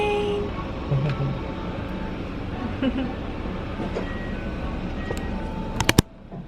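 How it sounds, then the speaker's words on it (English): Inside a moving Tokyo train, a steady rumble of wheels on rails runs under faint voices, with a few sharp chimes or clicks near the end. "We're on the train."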